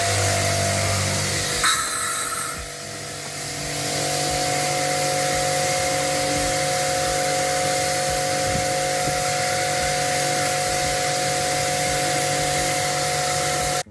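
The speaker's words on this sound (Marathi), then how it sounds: "आता हे सर्व का नाही प्रेशर गन आणूया आणि सर्व क्लीन करूया आम्ही हे." A pressure washer gun sprays a steady, loud, close hiss onto dirty machine parts, starting after a short rumble and running continuously with a faint tonal hum beneath and no talking.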